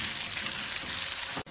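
Onions frying in hot oil give a dense, steady sizzle close by, cutting off abruptly just before the end.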